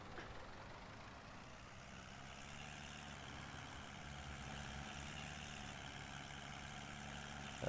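Tractor engine idling in a farming video game, a steady low mechanical drone with even rumble throughout, moderately close and alone.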